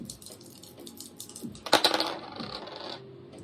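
Dice thrown and rattling across a hard surface, a burst of sharp clattering clicks that tumble and settle within about a second, close and fairly quiet, with faint background music.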